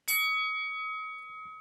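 A host's hand bell is struck once, giving a bright, clear ring that hangs and slowly fades over more than a second, with a faint rustle near the end.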